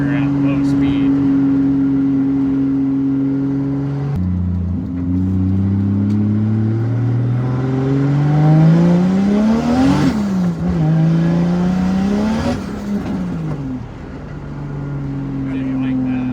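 A Toyota 2JZ engine with forged rods and pistons in a naturally aspirated-to-turbo car accelerates in third gear from low speed, its loud steady drone rising and falling in pitch as it revs, heard from close up.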